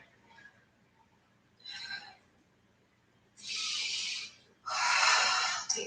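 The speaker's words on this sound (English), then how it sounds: "Deep breathing." Slow, deep breaths during a night-time Pilates stretching session: two soft inhales followed by two louder, longer airy exhales, close and clear with no talking.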